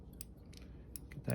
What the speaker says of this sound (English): So what I would normally do is cut off the fraying as much as I can.